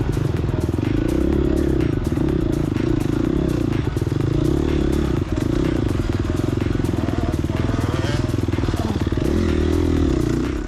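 Dirt bike engine roars loud and steady throughout a cross country sand race, with clattering chassis rattle and knocks over the dense drone; no talking.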